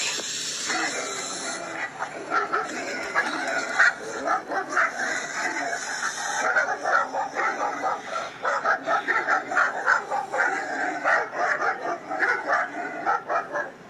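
A dog barks in repeated bursts, a quick excited run of woofs and yips growing busier toward the end, close and loud over a faint hiss, during a scuffle with a snake.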